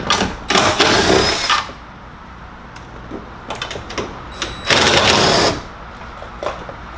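A power drill removes 7/16 screws from a 2000-and-later Ford Super Duty mirror, with two loud bursts of spinning separated by short clicks and handling noises nearby.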